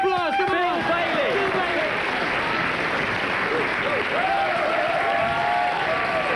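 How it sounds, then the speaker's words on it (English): An audience at a comedy festival show claps loudly and steadily throughout, with whoops, cheers and a lively voice calling out over the continuous applause. "Give them a big round of applause."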